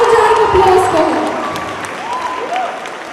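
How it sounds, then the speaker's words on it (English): Dense applause with some cheering from a crowd at a school felicitation for a beauty pageant winner, loud and continuous, with voices and a few whoops rising over the clapping. "Let's have a huge round of applause for her."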